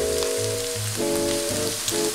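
Bacon, two large onions and grated carrots sizzle steadily in a hot pan, a close, constant crackling fry, for a Romanian bean stew, with a faint hum underneath.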